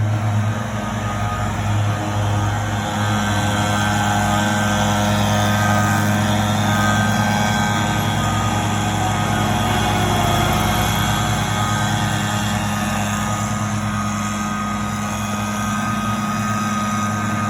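A lawn crew's leaf blower runs in a Farmington Hills, Michigan neighborhood, producing a steady, droning engine roar that holds at an unchanging level throughout, fairly loud and without talk.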